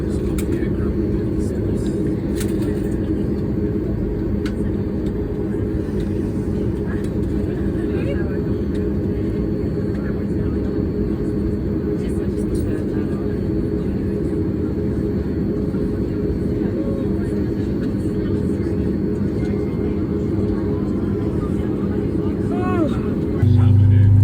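A Bonza Airlines aircraft waits at the gate before its first flight, with a loud, steady engine drone and low rumble filling the whole stretch without letup.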